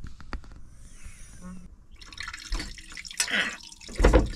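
Water running and dripping at a small sink inside a truck cab while washing up, with splashes and trickles rising and falling, loudest toward the end, with faint voice at times.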